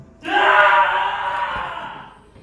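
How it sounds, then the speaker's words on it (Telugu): A single dying scream sound effect from a horror story: one long, loud, anguished wail that starts suddenly, holds for about two seconds and then fades. "ఆ అరుపు ఎలా ఉందంటే చనిపోయే ముందు అరిచే అరుపులా ఉంది"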